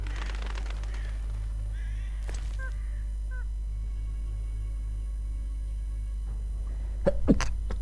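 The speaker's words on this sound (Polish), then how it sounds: "O kurczę, przepraszam was bardzo, ale musiałem kichnąć" A single sharp sneeze bursts out near the end over a steady low electrical hum, with faint game sounds earlier in the stretch.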